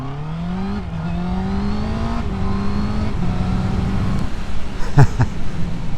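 Motorcycle fitted with Honda E-Clutch accelerating hard in first gear, engine note climbing steadily with brief dips at shifts or throttle changes, loud and close throughout with wind and road noise behind.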